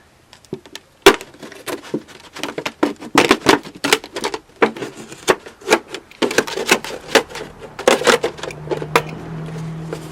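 Blade cutting around a plastic water jug for a seed-sowing greenhouse, a run of sharp crackling snips and scrapes in uneven bursts, close and fairly loud, with no voices.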